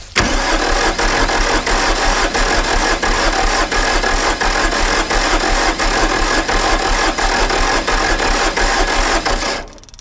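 Diesel engine of a Bobcat S250 skid steer with loosened injection lines, cranked over by the starter in one continuous, loud, rhythmic churning run of about ten seconds, alone and close, stopping abruptly at the end.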